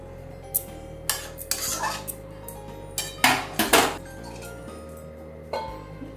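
Lid placed over a pot of moong dal and bottle gourd cooking in hot water, several metallic clinks and clatters scattered across a few seconds, close and distinct over a faint steady hum.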